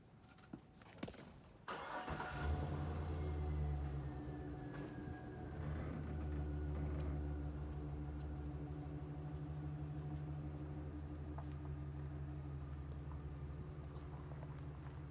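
A bucket tractor's engine cranks and starts after a few clicks, then settles into a loud, steady diesel-like idle with a deep hum that holds close to the microphone for the rest of the stretch.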